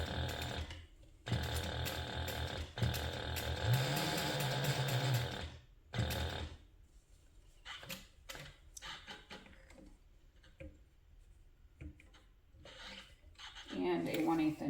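A sewing machine stitches a handbag at stitch length 4 with a 1/8 inch seam allowance, its motor whirring in two long runs early on, then short start-stop bursts with quiet gaps between.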